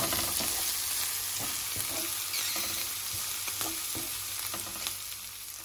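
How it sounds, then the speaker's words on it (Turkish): Green beans frying in a pan with spices and salt, a steady close sizzle with scattered scraping and stirring knocks throughout, no voices. "Fasulye kızartmamız, kavurmamız hazır."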